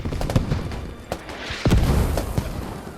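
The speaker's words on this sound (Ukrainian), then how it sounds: "Все, починає працювати кулемет" Gunfire and distant booms from a military battle in the video game Squad, with a few sharp reports and muffled explosions scattered over a steady background rumble, no voices.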